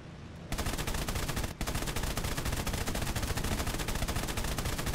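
Aircraft machine guns hammer away nonstop in War Thunder, a dense, loud rattle of rapid fire that starts abruptly after a brief engine drone and breaks for an instant before resuming, with no talking over it.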